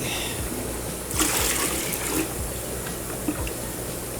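Running water splashes and trickles steadily as it overflows from a guppy fish tank, with a few louder sloshing surges partway through, close by and without speech.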